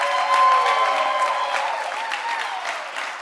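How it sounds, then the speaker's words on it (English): An audience at a sacred storytelling evening applauds the storytellers, a full, steady wash of clapping from many hands that slowly eases off toward the end. "Please, another warm round of applause for all of our storytellers."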